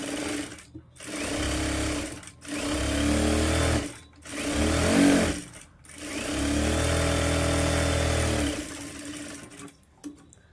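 A sewing machine stitches a lined blouse at the neck, running in several bursts of rapid mechanical whirring separated by short pauses, close and clear with no talk over it.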